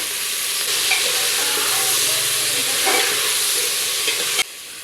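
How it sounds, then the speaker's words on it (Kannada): Ivy gourd frying in a pan for a sambar, a steady close sizzle with scraping stir strokes throughout, no talking, ending abruptly. "ಒಂದು ಎರಡರಿಂದ ಮೂರು ನಿಮಿಷ ಫ್ರೈ ಮಾಡಿ"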